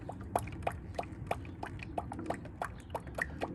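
Synthetic motor oil from the last quart glugs into a Suburban/Yukon/Escalade engine, a quick regular series of soft liquid gulps and drips, close and fairly quiet.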